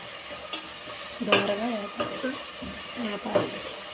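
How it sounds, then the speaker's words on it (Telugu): Green chilies, tomatoes and onions frying in oil, stirred with a spatula, giving a steady close sizzle with scraping strokes while a person talks over it. "తర్వాత పచ్చిమిరకాయ, టమాటా, ఉల్లిపాయలు వేసుకొని కాస్త కొంచెం సేపు మిక్స్ చేసుకోవాలి"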